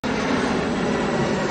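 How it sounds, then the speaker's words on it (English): A steady, loud engine drone of a small propeller plane, even and continuous for a second and a half with no voices. "Small plane."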